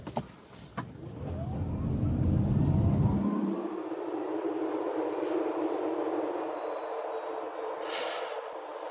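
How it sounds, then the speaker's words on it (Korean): A Renault XM3 E-TECH hybrid's engine runs in sport mode, a faint, steady whirring drone heard from inside the cabin that swells briefly and then settles into a quieter hum. "엔진 돌아가는 게 느껴집니다."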